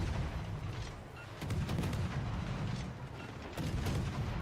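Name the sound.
warship shells firing and hitting in World of Warships: Legends video game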